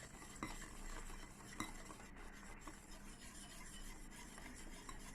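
A spoon or whisk stirs refined oil into coffee cake batter in a bowl, a close, soft, continuous scraping and swishing with a few light clinks against the side, faint and without speech.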